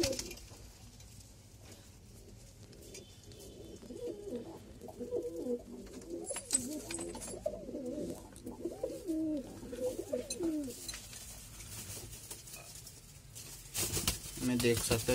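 Pigeons coo in a home loft, a soft low murmuring that runs through the middle of the clip over steady background noise, with some louder rustling near the end.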